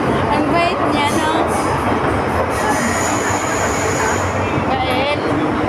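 A passenger train rumbles along the rails with a constant loud roar, heard from inside the carriage, high metallic squeals of wheels rising and fading over the noise.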